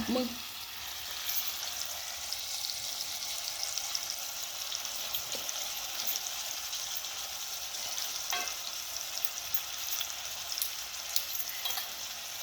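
Chopped onion sautéing in a pan over a wood-fired village stove, frying for a spicy matki (moth bean) curry; a steady, close sizzle runs throughout with a few soft utensil clinks and no speech.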